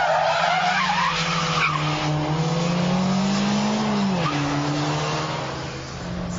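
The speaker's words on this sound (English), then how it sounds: "The handbrake turn to go backwards, and then follow that with a reverse flip." Car tyres squeal loudly through a handbrake turn into a reverse flip, a sustained skidding screech over a revving engine whose pitch rises and drops as the car swings around.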